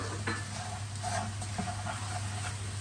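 Apples with spices and caster sugar softening in a pan, giving a steady soft sizzle with a few light stirring scrapes, close and alone.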